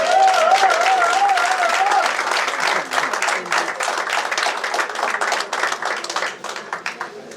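Big round of applause from an awards gala audience, first a thick wash of clapping with a brief high tone over it, then thinning into sparser, distinct claps that taper off toward the end.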